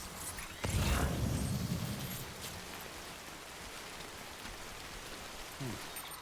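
Steady rain hisses across a Death Stranding landscape, swelling into a heavier, closer downpour early on before settling into an even, moderate patter to the end.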